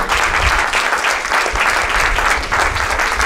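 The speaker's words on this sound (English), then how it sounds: "So can we have a round of applause for them?" Dense, steady applause fills the hall after a performance of East Indian songs with harmonium and tabla, loud and sustained with no voices standing out.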